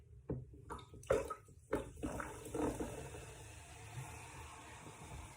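Vinegar glugs out of a large container in a few irregular splashing pours, close and fairly quiet, trailing off into a soft trickle.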